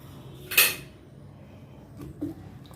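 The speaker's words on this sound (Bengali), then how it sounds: "পেঁয়াজটা দিয়ে দিলাম" Onion dropped into ginger-garlic paste in a pot, a single bright metallic clatter up close, followed by a couple of softer knocks and scrapes against the pot in a quiet kitchen.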